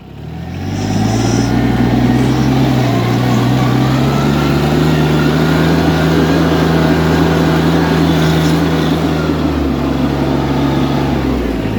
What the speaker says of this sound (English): When I push down the gas, it'll auto throttle.